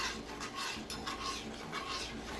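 A honey glaze mixture for baked ham being stirred in a bowl, soft repeated scraping and clinks of a utensil against the dish, fairly quiet and steady with no voices.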